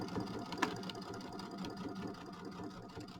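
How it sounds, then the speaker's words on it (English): A sewing machine stitches two quilt blocks together with a quarter-inch seam, a faint, steady, fast mechanical whir with one small click, and no talking. "I'm going to sew these 2 blocks together with my 1/4 inch seam."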